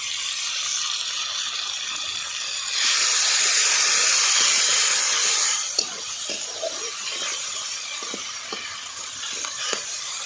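Chili, cumin and ginger paste hits hot oil in a pan for a Bengali tengra fish curry, setting off a loud, bright hiss that swells for a few seconds, then settles into softer sizzling broken by light stirring clicks.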